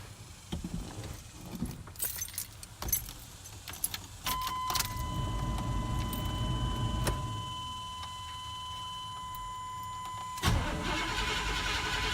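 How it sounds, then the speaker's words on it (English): A 1985 Chevrolet C10 pickup engine cranks over quickly with a rapid starter whir, then catches and settles into a steady running idle, close and fairly loud, with no talk. "it's cranking over fast"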